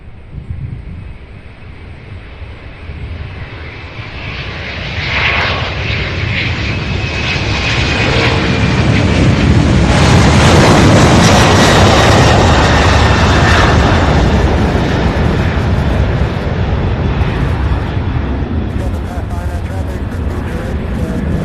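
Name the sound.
UPS MD-11 jet aircraft engines at airport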